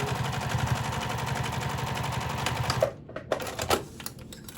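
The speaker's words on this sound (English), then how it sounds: "Back stitch, sew all the way down." Sewing machine back stitching then sewing down a vinyl beachcomber pouch, a fast steady mechanical rattle for about three seconds before stopping, followed by a few short clicks and handling noises.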